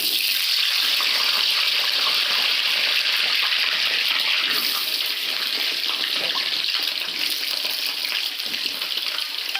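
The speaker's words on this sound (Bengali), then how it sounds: "আলুটা ভালো করে ধুয়ে নিচ্ছি।" A potato is washed under steady, loud running water that splashes continuously close by for the full length, with no talking.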